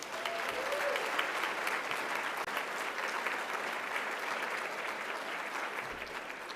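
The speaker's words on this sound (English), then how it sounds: "let's give a big round of applause to those students" An audience at a fundraiser gives students a long, steady round of applause, a dense wash of clapping that stays even throughout, with faint background crowd noise beneath.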